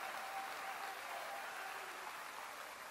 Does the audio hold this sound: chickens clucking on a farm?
no